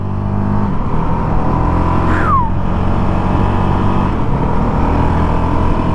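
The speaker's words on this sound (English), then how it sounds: "We are off and racing on the Honda CRF450L." A Honda CRF450L dual-sport motorcycle pulls away with a steady, loud engine drone on a dirt track, rising in pitch as it accelerates, with a brief whine partway through and constant wind and engine noise throughout.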